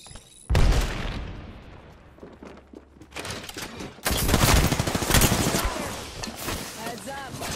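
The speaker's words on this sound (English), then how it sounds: "Grenade!" Bursts of rapid gunfire mix with a loud grenade blast in the battle royale shooter Apex Legends, heavy booming impacts and crackling shots coming in waves with a brief lull between them.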